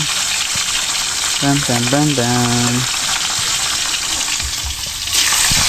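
Food sizzling steadily in a hot pan (kawali), a loud continuous fry with a brief rising tonal squeal midway, like a whistle or voice, over the crackle.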